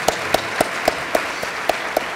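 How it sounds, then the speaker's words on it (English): An audience at a school mental health conference panel in Nebraska applauds the panelists, a steady wash of clapping with evenly spaced sharper claps standing out, no talking. "I'd like to all of us give a round of applause to our outstanding panelists"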